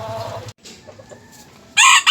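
Chickens cluck and a rooster crows at a small backyard poultry farm; low clucking gives way to a brief gap and scattered calls, then a loud, close crow bursts in near the end.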